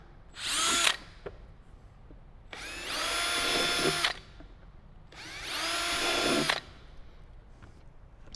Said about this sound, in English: So now we have our 4 holes drilled